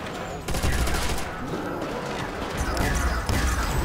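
Rapid gunfire from a Browning machine gun and ray gun in Call of Duty Nazi Zombies, Nacht der Untoten map, loud dense bursts nearly throughout with a brief pause near the start, game effects layered over.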